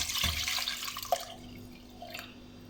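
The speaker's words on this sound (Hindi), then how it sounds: "हम इसके अंदर 3 मग पानी के ऐड करेंगे।" Three mugs of water poured into a pressure cooker holding 2 kg of beef chops, a brief close splash and trickle fading to a few faint drips.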